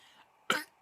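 A single sharp, close cough bursts out after a quiet pause, with the start of another cough cutting in right at the end.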